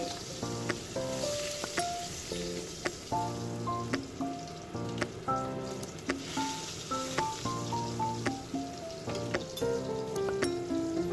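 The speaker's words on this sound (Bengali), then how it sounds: "বাকি কই মাছগুলো আমি এবার তেলের মধ্যে দিয়ে দেব ভাজতে" Koi fish frying in hot oil give off a steady, soft sizzle and crackle, heard faintly beneath rhythmic background music.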